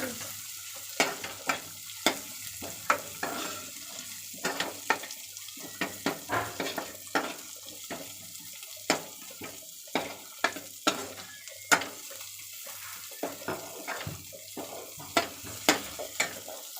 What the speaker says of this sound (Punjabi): ਹੁਣ ਮੈਂ ਹਰੀ ਮਿਰਚ ਹੁਣ ਭੁੱਜ ਜੂ